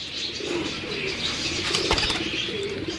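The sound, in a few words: red-eyed Jura pigeons cooing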